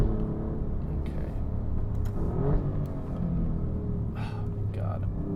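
Alfa Romeo Giulia Quadrifoglio engine droning steadily and loudly from inside the car as it drives, with pitch rising slightly at moments, under brief spoken exclamations.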